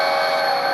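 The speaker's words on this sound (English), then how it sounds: "even when you put the horn on at full throttle" HO scale Kato model locomotive sounding its horn at full throttle, a steady, bright, tonal electronic blare held continuously and close for under a second.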